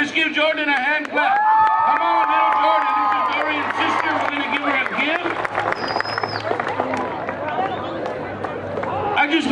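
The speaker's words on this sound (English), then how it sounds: "Give a hand clap." A crowd at an evening community show in El Monte claps and cheers for a child brought on stage, a loud, steady wash of applause with whoops over music and voices.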